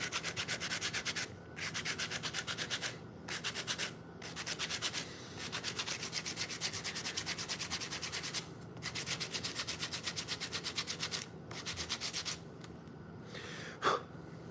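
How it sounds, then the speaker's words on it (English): A wooden slingshot is sanded by hand with 60 grit sandpaper in rapid back-and-forth strokes, close and rhythmic, with a few short pauses between bursts of rubbing. "with the 60 grit sandpaper, I can still do a ton of shaping."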